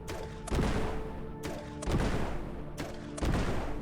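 Bombs going off in Core Keeper, three loud blasts at regular intervals, each a sharp crack decaying into a rumbling tail, with no talking.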